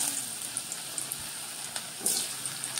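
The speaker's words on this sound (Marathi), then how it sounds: "व्यवस्थित खरपूस भाजून हे अशा पद्धतीनं हे बटाटे आपल्याला तळून घ्यायचे आहेत." Potatoes fry in hot oil with a continuous bright sizzle and light bubbling, close and even, broken by a few small pops.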